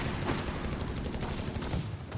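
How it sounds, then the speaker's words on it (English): .30 cal machine gun fire in the Company of Heroes 3 strategy game rattles in a dense, continuous burst amid battlefield noise, steady and fairly loud throughout. "30 cal from the Panzers here."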